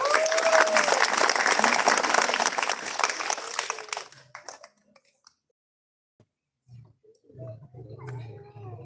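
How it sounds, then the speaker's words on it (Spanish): An audience at a Christmas gift-giving event applauds loudly with a brief cheer, the clapping dying out about halfway through, followed by near silence and then a few faint sounds and voices. "Fuerte el aplauso."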